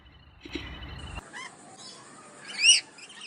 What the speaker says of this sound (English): Can you hear the birds in the background?